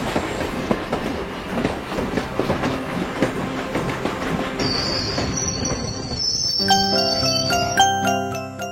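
A train pulls away along the rails, wheels clattering and rumbling close by, then metal wheels squeal in long high tones that build and ring out toward the end, with no voices.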